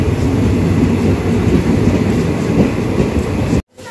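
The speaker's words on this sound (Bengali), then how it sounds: "আর আইসা পড়ছে আমাদের ট্রেন।" A passenger train rolls into a station with loud steady rumble and wheel clatter throughout, cutting off abruptly near the end.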